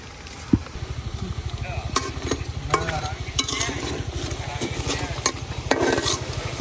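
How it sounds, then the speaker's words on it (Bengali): Netrokona masala pitha, also called muitha pitha, frying in hot oil with a steady close sizzle and bubbling, while a utensil scrapes and clinks against the pan in irregular bursts. "এই পিঠাগুলোও ভাজা হয়ে গেছে"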